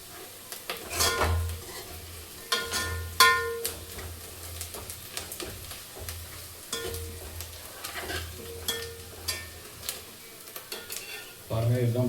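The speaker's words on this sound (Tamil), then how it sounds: "கொஞ்சம் ஓரளவுக்கு நல்லா வதங்கி சுருங்கிடுச்சு வெங்காயம்" Onions sautéing in a pan for mushroom gravy, with a steady sizzle under repeated scraping and stirring strokes and clinks of a spoon against the metal pan, close by and fairly loud.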